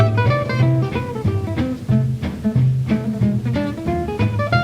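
A jazz piece in gypsy jazz guitar style: bright plucked guitar notes and chords in a lively, bouncing rhythm, played fairly loud with no voices.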